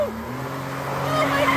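Car engines in a video game whine and rise in pitch, with a faint tire squeal near the end; a voice talks briefly over them.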